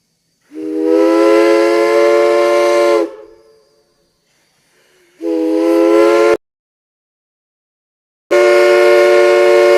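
A Southern Crosby steam whistle blows loud, rich chime-like blasts at a Kentucky whistle blow event: a long sustained blast, a shorter one after a soft hiss, then a third beginning near the end.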